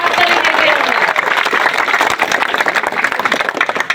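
A crowd at a street rally in Paka union applauds loudly and continuously, dense clapping filling the scene and gradually thinning into scattered claps with voices underneath.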